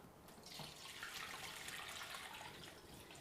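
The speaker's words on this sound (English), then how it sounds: "I'm gonna get the whey separated from the curds" Whey being poured off freshly made Monterey Jack cheese curds, a steady splashing, gurgling stream of liquid close by that runs unbroken for about three seconds with no voices.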